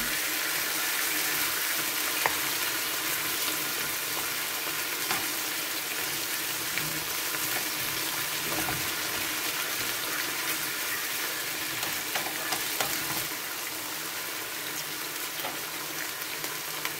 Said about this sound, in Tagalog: ilagay ko na din po yung ating pinagbabaran. Yung pinagmarinitan.